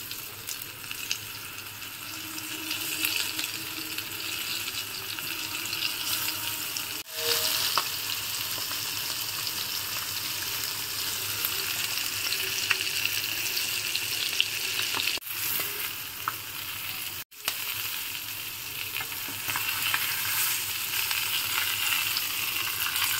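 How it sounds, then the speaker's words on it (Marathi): Indian mackerel (bangda) frying in hot oil on a flat pan (tava), a steady close hiss and crackle of sizzling fish lasting throughout, with a few brief clicks and no talking. "आता हे बांगडे यामध्ये फ्राय करायला टाकत आहे"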